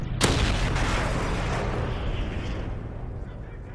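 A video-game grenade goes off in one loud, close blast, then rumbles and fades slowly over several seconds.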